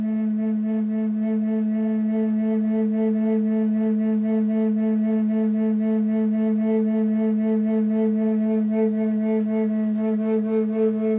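Large-bore Native American bass flute in A, tuned to 432 Hz, sustains one low note with a gentle breath-driven vibrato, a warm continuous tone lasting over ten seconds, close and alone.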